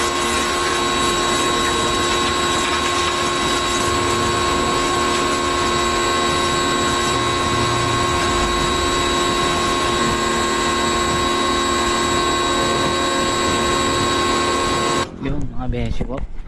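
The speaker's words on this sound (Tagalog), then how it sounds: "Ayun, napakalakas ng res. Linis na linis yung aking motor." A pressure washer sprays a motorcycle clean with a loud, continuous hiss and high mechanical whine that holds steady, then cuts off abruptly near the end, with a voice talking over it.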